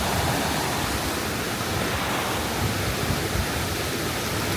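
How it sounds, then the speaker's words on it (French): A waterfall in Lombok roars in a dense, constant wash of rushing water, loud and unbroken, with no voices. "C'est la plus belle cascade que j'ai vue de ma vie."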